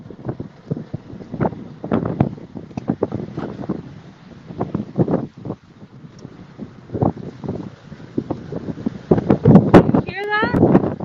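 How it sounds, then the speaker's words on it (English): Strong wind gusts buffeting the microphone outdoors near a wildland fire in Yorba Linda, loud and continuous with rushing bursts, while someone talks over it throughout. "Very windy."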